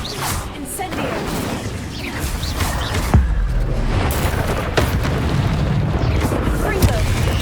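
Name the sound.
Incendio fire spell cast in video game Hogwarts Legacy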